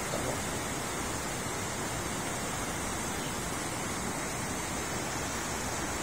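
Water rushing steadily beneath the Montalban bridge, a dense, continuous broadband roar that stays even and loud from start to finish, with no talk over it.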